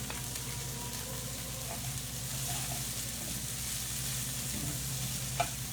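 Food sizzling and frying in a hot pan, a steady bright crackle with faint stirring and occasional small pops, close and continuous with no voices.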